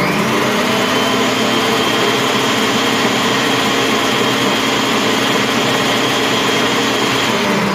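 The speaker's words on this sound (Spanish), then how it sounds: "le vamos a dar para batirle unos golpes de turbo" A Mambo kitchen robot whirs on turbo while blending a sweet and sour sauce, a loud, steady motor drone that holds unbroken from start to finish.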